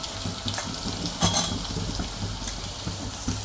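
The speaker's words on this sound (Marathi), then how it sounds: "लसूण टाकते, याला छान लाल होऊ देते" Garlic sizzles and fries in hot oil close by, a steady crackling spatter with a stir or clink here and there.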